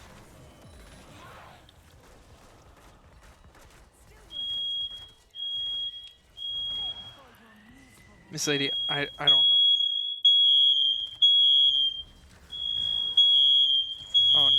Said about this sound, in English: Is there a fire alarm going off?